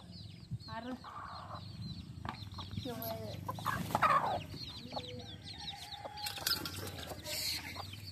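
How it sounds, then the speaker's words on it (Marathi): Hens clucking in a rural village setting, several bursts of clucks and cackles spread through the clip amid other farmyard birds, fairly close, with background chatter. "कोंबडी खुटीला बांधतेस"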